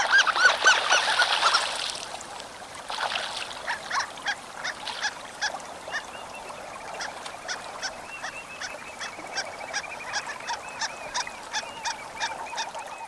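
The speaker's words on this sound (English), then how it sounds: "Harlequin duck," Harlequin ducks (Histrionicus histrionicus) produce a rapid series of thin, squeaky high notes in an even rhythm, following a brief rushing noise at the start, moderately close.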